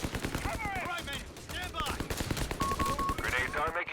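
Rapid bursts of machine gun fire in the Company of Heroes 3 video game, crackling over and under a caster's continuous commentary.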